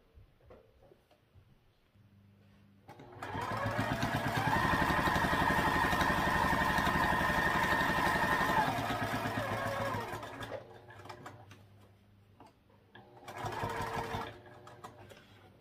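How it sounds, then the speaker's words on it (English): A home sewing machine runs a steady, fast stitch around a small box on a crossbody bag with a short stitch length, whirring loudly for about seven seconds, easing down, then a brief second burst near the end. "We'll sew around this box with a small stitch length."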